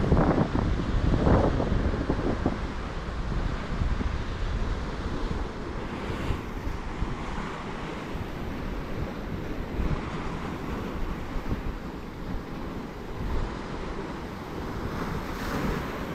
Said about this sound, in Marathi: ही बघा लाट, बघा लाट, बघा किती मोठी आहे बघा.